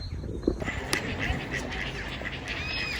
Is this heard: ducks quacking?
yes